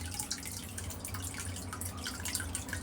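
Water runs into a storage tank fitted with an automatic water level control valve, heard as a soft continuous trickle with scattered drips and splashes over a low steady hum, fairly quiet and close, with no talking.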